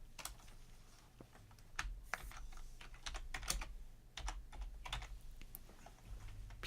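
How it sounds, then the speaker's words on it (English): Typing on a computer keyboard while playing modded Minecraft, with irregular clusters of crisp key clicks and taps, fairly close and quiet, no voice over them. "you can just type in BOT."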